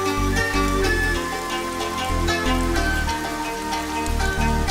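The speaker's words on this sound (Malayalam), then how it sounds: "അതിനു മുമ്പേ ഇതേ മഴ തുടങ്ങി." Rain begins to fall, a dense, steady patter of drops on a surface that stays close and loud throughout, with no voices.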